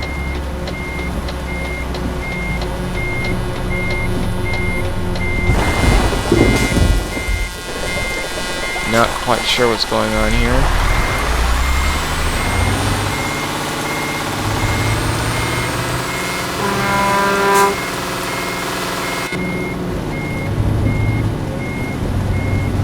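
Reversing beeps from a truck in Euro Truck Simulator 2 multiplayer, a steady repeating electronic tone running through most of the clip with engine rumble and a horn, under occasional talk.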